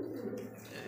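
Lahori pigeons giving a short, soft, low coo, close by and brief, with faint background noise and no talk.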